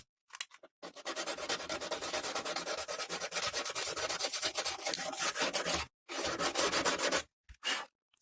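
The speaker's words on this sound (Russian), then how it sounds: "И теперь зачищаем бортик." Abrasive sanding scrubs rust off the bare edge of a masked-off car wing, a steady close rasping that runs in continuous strokes with two brief pauses near the end.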